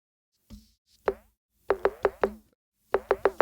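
808-style conga-like drum sample played in Maschine for a dub reggae beat: a few isolated hits, then quick rhythmic bursts of four or five sharp, decaying percussive knocks, clean and close with no voices.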